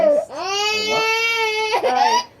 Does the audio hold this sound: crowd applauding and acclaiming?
no